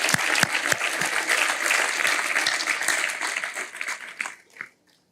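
Church congregation applauding the Lord during a sermon, a dense crowd clapping with several sharp claps standing out, then tapering off and fading out near the end.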